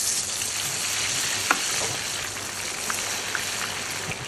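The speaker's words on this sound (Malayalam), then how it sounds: "ചിക്കൻ പൊരിക്കാനുള്ള പരിപാടിയാണ്" Chicken 65 frying in hot palm oil in a large batch, a steady bright sizzle with occasional pops and stirring clatter, close and continuous with no talk.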